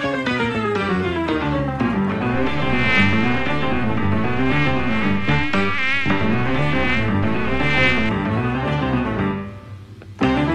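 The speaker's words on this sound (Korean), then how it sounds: "모기 mosquito." A mosquito whines nearby, a loud, unbroken buzzing drone with a pitch that wavers in rapid swells, lasting about ten seconds before briefly dipping away.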